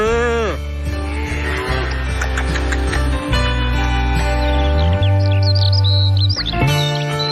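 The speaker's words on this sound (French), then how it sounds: "T'entends pas les oiseaux qui chantent?" Birds chirping and singing outdoors, bright repeated tweets heard over other steady noise and tonal sounds throughout the stretch.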